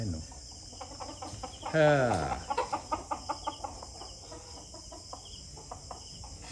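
Breeding chickens on a small Filipino farm cluck in a quick run of short rhythmic calls after one drawn-out squawk, close by, with insects chirring steadily behind and someone speaking briefly.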